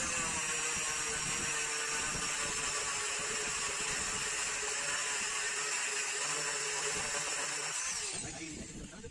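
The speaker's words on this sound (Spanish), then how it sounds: "simplemente empezar a lijar y tratar de mantener la lijadora lo más plana" Power sander running steadily against an old reclaimed wood board, a continuous buzzing whir that holds at an even level for several seconds before slowing and fading at the end.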